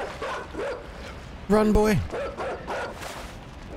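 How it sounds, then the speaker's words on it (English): A dog in the video game Inside gives a loud burst of barking and yelping near the middle, with a few fainter yips around it while someone speaks briefly. "Oh god, there's a dog coming."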